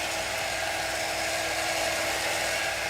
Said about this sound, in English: I've got a second dryer.